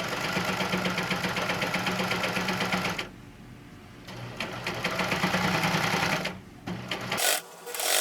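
A longarm quilting machine stitching fabric for a quilted bag while its knife trims the edge, a loud steady mechanical whir with rapid rhythmic chatter that drops briefly twice before resuming, no talk.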